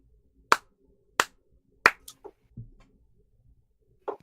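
A slow clap: three sharp, spaced hand claps about two-thirds of a second apart, followed by a few softer taps and a final clap, close and clear in a quiet room.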